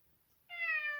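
A single cat meow, short and clear, rises out of a quiet room after half a second of near silence and holds briefly at moderate volume.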